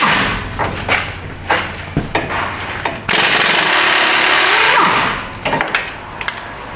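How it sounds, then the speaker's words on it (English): An Astro Tools Thor G2 impact wrench fires in one sustained, loud burst of about two seconds during a 2021 Ram 2500 wheel bearing job, framed by clanks, thuds and tool handling before and after. "Now we are using the most powerful impact on the planet, the Thor G2 Astro Tools."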